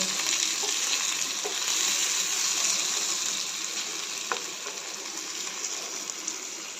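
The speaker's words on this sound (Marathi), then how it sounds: "कारल्याच्या फोडी एक दोन मिनटं परतून घेते त्या तेलामध्ये" Bitter gourd pieces frying in oil in a pan, a dense hissing sizzle that stays steady and close, with a few light utensil taps and no voices.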